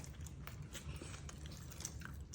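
Close chewing of a mouthful of beef noodle soup with scallion pancakes and pickles, soft wet bites and mastication over a brief stretch, no talking.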